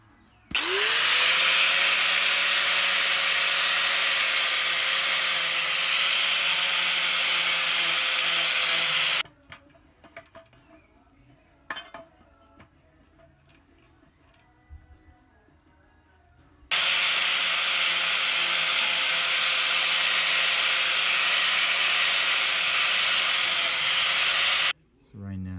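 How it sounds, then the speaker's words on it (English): An angle grinder fitted with a flap disc grinds a ride-on mower blade on a John Deere D140, giving a loud steady whine and hiss in two long sustained bursts separated by a quieter gap of small clanks. "simply with a grinder, and I just have a flap disc, we'll be grinding it this way"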